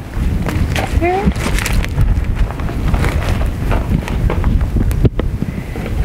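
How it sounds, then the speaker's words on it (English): Strong wind blows outdoors at an exposed off-grid home build site, a loud continuous roar buffeting the microphone, with a voice speaking over it. "Crew, you scared of the wind?"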